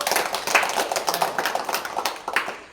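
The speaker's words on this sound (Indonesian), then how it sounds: "tepuk tangan untuk kita semua dulu" A short burst of scattered hand clapping from a group of junior high school students in a physical education class, quick and uneven, lasting a couple of seconds.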